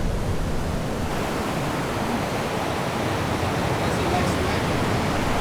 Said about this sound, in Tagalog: Wow, that's big wave.